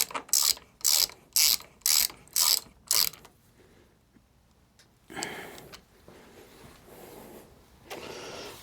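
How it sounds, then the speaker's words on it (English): A hand ratchet clicks in seven quick, evenly spaced bursts while tightening the handlebar end of a Suzuki DL800RE V-Strom motorcycle during a heated-grip fit, followed by quieter fumbling mechanical handling sounds. "I may as well just tighten that bar end"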